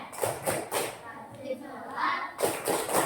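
Children in a Grade 4 Islamic education classroom clapping a rhythmic chant, several sharp clap bursts in a steady beat at the start and end with voices in between.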